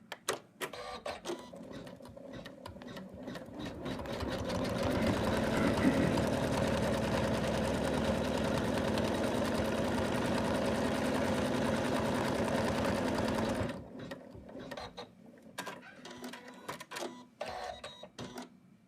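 Home embroidery machine stitching an in-the-hoop placement line, a steady rapid mechanical chatter with a motor hum that builds, runs loudly for several seconds, then stops, leaving scattered clicks and handling noises.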